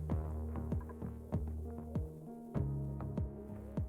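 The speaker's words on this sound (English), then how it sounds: "We're at micrograms, and it's pumping pretty quick because of the box shape." Gas pump in Oxygen Not Included drawing CO2 out of a sealed box room, heard as a steady low throbbing hum with regular pulsing thumps about every half second, with no talk over it.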